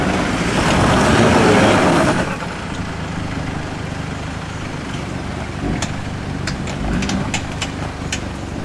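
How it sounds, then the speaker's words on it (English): A 4WD climbing a rock step on a rocky creek track at Yarrabulla Creek in winter: the engine roars loudly for about two seconds, then settles into a steady, lower rumble with a few faint knocks. "So the front tyres climb up easily enough, and then as you go to come up, that back tyre falls in."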